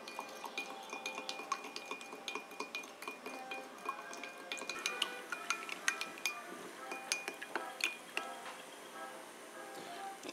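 Oxalic acid being stirred into alcohol in a glass fruit jar, a quiet, steady series of light clinks and scrapes from the stirrer against the glass, close and unhurried.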